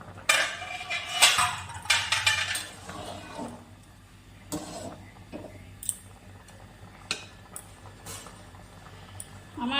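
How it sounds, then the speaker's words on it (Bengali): A metal lid lifted off a pot of boiled peas and potatoes in a home kitchen for ghugni, giving clattering metallic clinks and scrapes near the start, then scattered lighter knocks and clicks at close range. "10 মিনিট পরে ঢাকনাটা খুলে নিলাম।"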